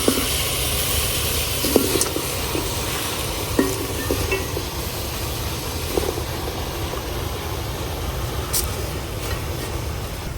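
Freshly cut garden leafy greens dropped into a hot pot on a village stove, giving a steady loud sizzling hiss with scattered small clatters and stirring taps throughout.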